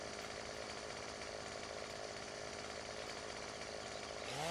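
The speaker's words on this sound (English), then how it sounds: "we're just gonna have to settle for cutting all these down with chainsaws" Chainsaws cutting down trees in the video game Farming Simulator 17 give a steady, loud buzzing drone that runs continuously, with a rising whine near the end.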